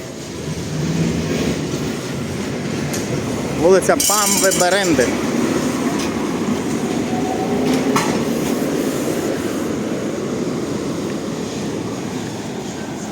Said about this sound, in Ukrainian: Синій і жовтий трамвай, гарно, правда?